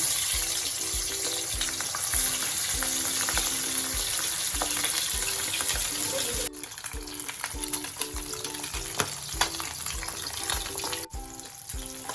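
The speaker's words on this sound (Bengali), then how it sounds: "এবারে তেলটাও আমার কড়াইতে গরম হয়ে গেল। আমি এবার মাছটা ভেজে নেব।" Katla fish fries in hot oil in a wok, a close, continuous crackling sizzle with a fast rhythmic pulse of bubbling that carries on without pause or talk.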